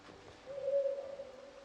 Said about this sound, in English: Heard an owl make a noise.